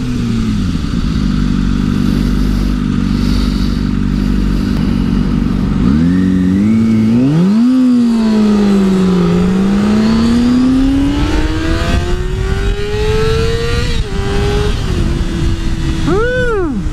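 A sport bike and a Jaguar F-Type race each other, loud engines idling and then revving hard, their pitch climbing and falling in repeated sweeps as they accelerate close by.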